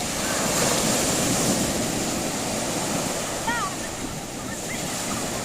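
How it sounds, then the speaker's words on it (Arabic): Sea waves on a summer beach wash in a continuous loud rushing surf, with wind noise on the microphone and a faint bird-like chirp briefly heard over the roar. "البحر شويه طالع."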